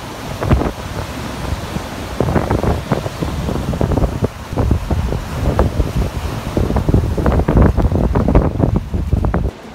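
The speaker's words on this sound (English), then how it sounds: "Let me show you how big the waves and the riptide are." Powerful ocean waves with a strong riptide crash and churn at a beach in Cabo, heavy surf roaring continuously with repeated surges and wind buffeting the microphone throughout, loud and close.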